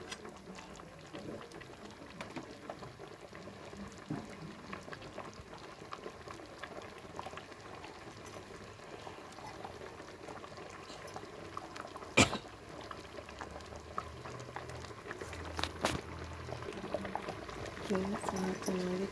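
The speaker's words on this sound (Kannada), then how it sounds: "ಸಾರು ಚೆನ್ನಾಗಿ ಕುದೀತಾ ಇದೆ." Mackerel fish curry bubbles steadily in a wide pot, a soft continuous simmer with occasional louder pops, heard fairly close and at a low level throughout.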